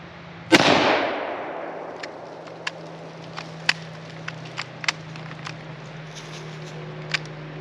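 A Remington-built M1891 Mosin rifle fires one loud, sharp shot at an outdoor range. The crack is followed by a decaying echo, then faint clicks and handling noises over a low background hum.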